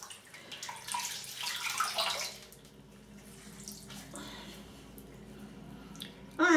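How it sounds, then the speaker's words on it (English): Water drains gurgling from a bathroom sink clogged with a chunk of soap, a wet burbling swirl that fades to quiet trickles and drips, ending in a brief louder splash. "let me just let that water out"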